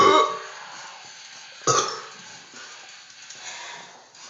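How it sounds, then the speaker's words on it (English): A person lets out a loud, rough burp, followed by a second shorter burp mid-way, both close and alone with a quiet background. "Well, now the burping session is gonna start"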